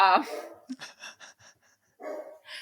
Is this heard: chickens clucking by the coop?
no